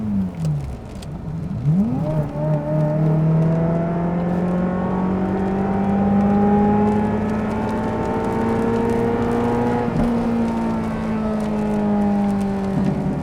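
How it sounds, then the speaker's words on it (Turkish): A Ferrari manual sports car engine revs steadily and loudly, pitch rising and holding with a brief dip around the middle, while the exhaust pops and crackles at the rear as the throttle is eased; no one speaks. "Gazdan ayağını yarım çektiğinde arkada bir patırdama başlıyor. İnanılmaz keyifli bir egzozu var."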